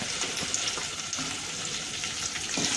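Onion sautéing in hot oil with chili, crushed ginger-garlic and curry leaves for masale bhat, a continuous close frying sizzle with faint stirring, no voices.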